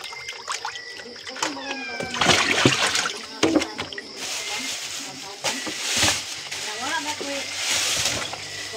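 Tilapia fish are washed by hand in water, with intermittent splashing, sloshing and handling noises close by, while people talk throughout.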